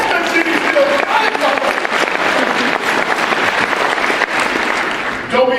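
A theatre audience claps at a stage performance of Aladdin, dense sustained applause close and loud, with voices mixed in and a singing voice rising near the end.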